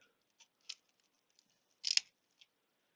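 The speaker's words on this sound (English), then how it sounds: "let's get a fresh new razor blade. And I'm going to try and cut along the top of that seam" A fresh razor blade slicing through coral flesh along a seam while fragging a reef coral, giving a few faint, short crisp snips, with one louder scraping cut in the middle.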